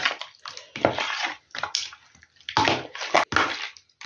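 Fish being mixed by hand with garlic, salt and pepper in a bowl, wet squelching and sloshing bursts coming in irregular close strokes with short pauses between.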